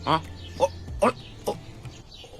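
A man imitates a rooster crowing in short, separate bursts, with no other sounds around him.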